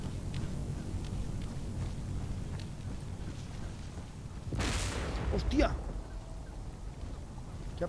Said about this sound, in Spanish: O sea, una pedazo de explosión enorme.